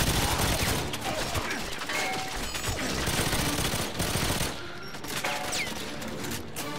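Gunfire in GoldenEye 007 Reloaded on PS3 rattles almost continuously, with rapid automatic bursts and scattered single shots over game noise, loud and close throughout.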